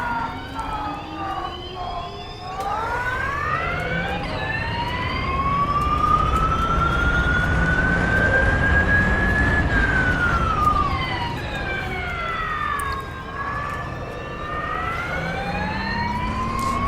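A car alarm in the rFactor 2 racing game wails continuously with a loud siren tone that sweeps slowly up and down, steady throughout with no talk over it.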